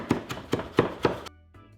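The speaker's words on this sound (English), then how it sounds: "You need 1/3 of a cup of your fresh parsley, and you want it to be minced very finely." Fresh parsley minced finely with a kitchen knife on a cutting board, five firm chopping thunks in a steady rhythm, close and clear, then a short quiet tail.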